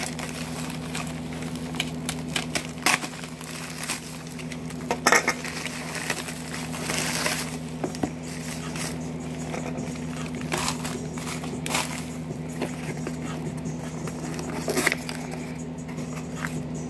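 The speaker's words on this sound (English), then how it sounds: "Quick unboxing or opening. A quick opening. This package right here." Crinkling and rustling of a package containing an RCA distribution box being opened, with scattered taps and soft crackles over a low steady hum.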